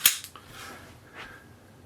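Trigger of a SAR USA SAR 9C pistol dry-fired, giving one sharp, loud click followed by a couple of faint mechanical clicks in a quiet space.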